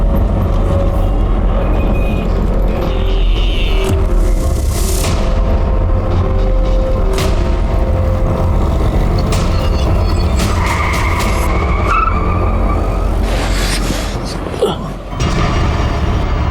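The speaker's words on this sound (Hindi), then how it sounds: "पिछले 4 किलोमीटर से गाड़ी मुझे फॉलो कर रही है" A car skidding on a road while following another vehicle, with loud tyre squeals and engine noise over constant rumble and a few sharp thumps, all close and intense.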